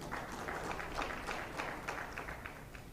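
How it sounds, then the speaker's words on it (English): Audience at a national HIV/AIDS scientific meeting gives a faint, distant round of applause, a soft uneven patter of clapping heard low under room noise. "Let's give another round of applause."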